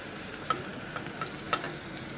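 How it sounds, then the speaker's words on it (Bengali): A spatula stirs turmeric into onions frying in oil, a steady close sizzle with a few soft scraping taps against the pan; no voices. "এখন হলুদটাকে একটু নেড়ে দিচ্ছে"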